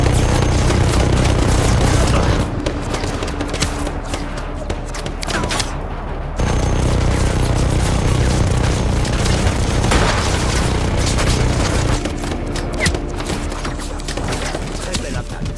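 Rapid machine gun bursts and heavy booms in Just Cause 3, loud and dense throughout with a brief drop in the middle, then sustained firing and impacts.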